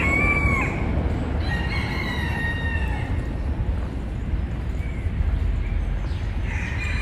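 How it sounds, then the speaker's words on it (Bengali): A rooster kept in a small coop in a large Lisbon park crows several times, drawn-out calls rising and falling over a steady outdoor background hum, with occasional clucks from other fowl nearby. "এখানে মোরগের ডাক খুব সুন্দর"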